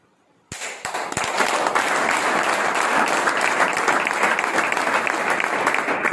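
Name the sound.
audience applauding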